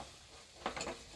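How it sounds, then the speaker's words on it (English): Goat meat with tomato paste is stirred in a sizzling pan, giving a short soft sizzle with a few scraping stir strokes near the end. "continue stirring the meat."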